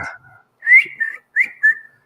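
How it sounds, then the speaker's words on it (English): A thin, high whistle rises and falls in short bursts, like air whistling through a nose while breathing, close to the mic. "nose breathing, and his mic's catching it"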